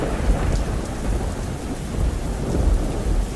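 A heavy thunderstorm with steady, dense rain and deep, continuous rolling thunder, loud and close throughout, with no voices.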